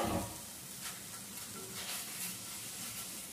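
Half-moon slices of onion sizzle in a dry Brinox pan with no fat added, a soft steady frying hiss with occasional stirring, quiet and close.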